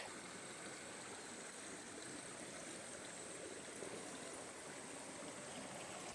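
Creek water flows steadily over a rocky bed, a continuous broadband rushing and trickling wash that stays even and close for the whole stretch, with no voices.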